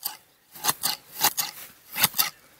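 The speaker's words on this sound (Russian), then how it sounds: "этими ножницами, вот я говорила уже, я обрезаю траву" Gardenic garden shears snip grass among rocks, with about six crisp, close cuts in quick pairs and short pauses between, with no voices.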